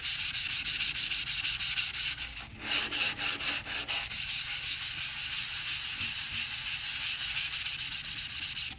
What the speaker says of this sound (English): when you're using a 320 grit or a higher grit, when it comes to Bondo, it takes a lot more time and it takes a lot more force